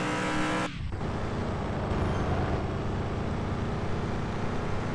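Mustang car engine in the video game Car For Sale Simulator 2023, a loud continuous rumbling drone after an abrupt cut in the opening second, steady and close.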